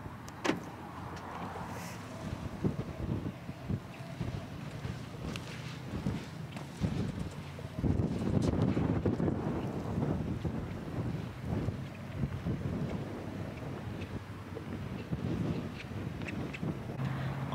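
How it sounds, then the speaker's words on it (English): Gusty wind at a nearly empty park buffets the microphone in uneven, rumbling surges that strengthen midway, with faint scattered clicks and no talking. "it is like windy. Like it all of a sudden just started going."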